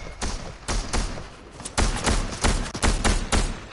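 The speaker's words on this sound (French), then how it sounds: "Oh, ça tire en face." Bursts of enemy gunfire in a PC shooter game crack out in repeated volleys, some rapid and overlapping, loud and close across the whole stretch.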